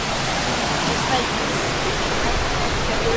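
A waterfall roars in a steady, loud, full rush of falling water that runs on without a break.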